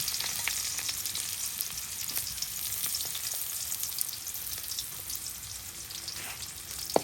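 Garlic and onion frying in hot oil for a dal tempering, a continuous dense sizzle with crackles throughout, close and fairly loud, no talking.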